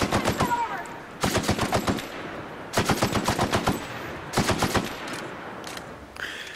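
Machine gun fire from The Outer Worlds video game crackles in four rapid bursts separated by short pauses, loud and close, with a brief metallic reload-like sound at the end.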